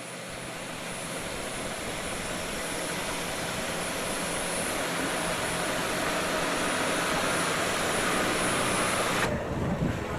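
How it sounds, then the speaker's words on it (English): An Air New Zealand airliner's engines give a steady, broad roar on the ground at Apia's airport, constant and moderately loud throughout with no talk. "There's our plane."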